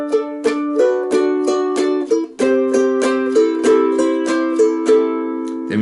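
Ukulele strumming power chords through a twelve-bar blues in a beginners' lesson, about eleven bright, evenly spaced strums ringing with a chord change midway and a lower final chord, close and alone.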